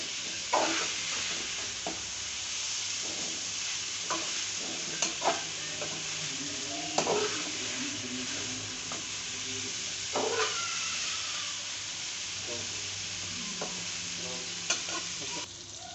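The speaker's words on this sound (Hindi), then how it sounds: "इसको बहुत ही नरम हाथ से मिक्स करना है ताकि कोई भी भिंडी टूटे नहीं" Crispy fried okra (bhindi) being gently mixed in a pan, with soft scraping and stirring strokes over a low, steady sizzle, close and fairly quiet, without talk.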